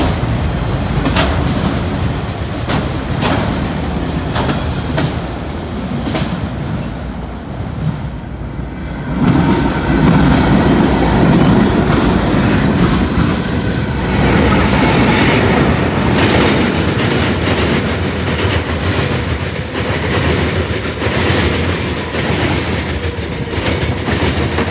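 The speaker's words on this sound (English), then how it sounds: "at least I got a perfect meet with the end of the other train" A long Norfolk Southern freight train rolls past close by, loud and continuous, with rhythmic clickety-clack of wheels over rail joints and a steady rumbling roar.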